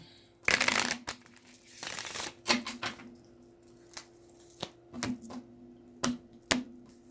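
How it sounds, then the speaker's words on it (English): A deck of cards being shuffled by hand, with a burst of riffling followed by a series of sharp taps and snaps as the cards are squared and struck, close and fairly quiet. "Just making sure we got a good shuffle going here"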